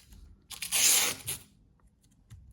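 Adhesive tape is ripped off its roll while a cardboard organizer for small items is being assembled by hand: one loud, crackling tear of about a second, with quiet handling noises before and after.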